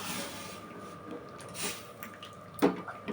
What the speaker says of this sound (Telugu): ఇప్పుడు కొన్ని నీళ్ళు కూడా కలుపుకుందామండి